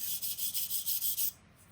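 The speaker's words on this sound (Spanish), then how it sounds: "la rasparemos con un cepillo de púas de alambre" A wire brush with steel bristles scrapes hard across a metal stove structure in close, rhythmic back-and-forth strokes, about seven in quick succession before stopping abruptly.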